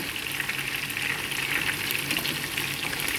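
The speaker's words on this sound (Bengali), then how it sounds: "মাছ একটু কড়া করে বাজলাম" Small sea fish frying hard in a pan, a dense, continuous, loud sizzle and crackle held at steady level throughout, close up with no voices.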